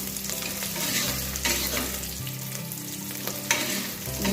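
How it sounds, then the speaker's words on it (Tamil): Chopped onions sauté in a pan for Bangalore-style sambar, a steady close sizzle with spatula scrapes and stirring knocks running throughout, no voices. "வெங்காயம் நல்லா வதங்கணும்."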